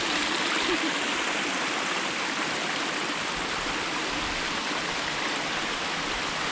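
Cold wild water pours over a waterfall outdoors, a loud, dense, unbroken rushing roar heard from close by at the top of the falls.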